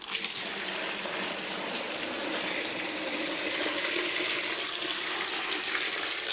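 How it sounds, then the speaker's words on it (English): Water gushes steadily from a tap or hose into a tote packed with walnuts, filling the containers to steep into a homemade pure walnut stain; a continuous, close, even rush with no voices. "now I fill them up with water"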